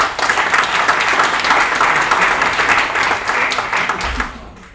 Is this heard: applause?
yes